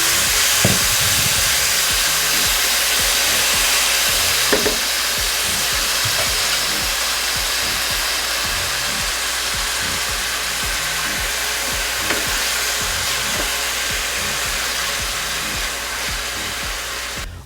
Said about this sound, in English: Okay, so in our beef goes.